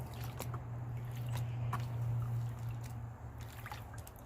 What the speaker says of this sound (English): Let the water carry all the light stuff right off the top.